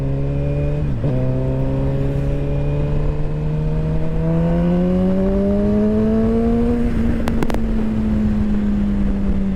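A motorcycle ridden on the road, its engine giving a steady, loud drone that shifts pitch as gears change and the speed climbs, with constant wind rush and no talking.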